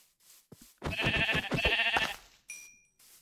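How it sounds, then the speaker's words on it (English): A Minecraft sheep lets out a drawn-out, wavering bleat, loud and close, preceded by a couple of soft clicks and followed by a short electronic tone. "Oh, that's a sheep."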